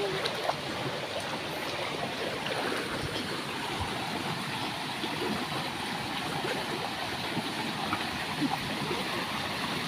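Water flows steadily in a village stream in Konkan, Maharashtra, a continuous broad rushing and gurgling at moderate volume with no pauses or voices.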